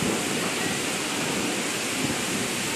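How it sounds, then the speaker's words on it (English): Heavy rainstorm roars as a dense, constant wash of loud rain noise with thunder from a close lightning strike blended into the downpour, no voices. "That was a lightning strike. That was very close."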